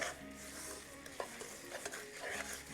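Semolina and raisins roast in a pan for jaggery sapota kesari bath, a quiet soft sizzle with gentle scraping stirs and a few light clinks of the spoon against the pan.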